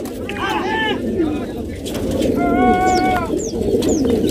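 Pigeons cooing at a large pigeon competition in Pakistan, with several soft, repeated coos close by over a steady outdoor crowd murmur and background chatter.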